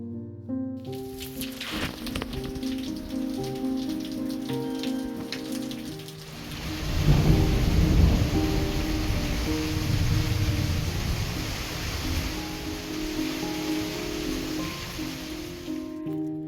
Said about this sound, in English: rainy, stormy day.